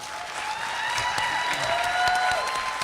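A studio audience at a televised ballroom dance competition claps steadily and loudly for the whole stretch, a dense sustained wash of applause without speech.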